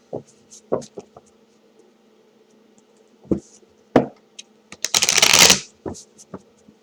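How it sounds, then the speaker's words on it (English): Card shuffling: a few short riffling snaps, then a dense burst of fluttering cards riffled near the listener, with quiet pauses between. "Let me shuffle again."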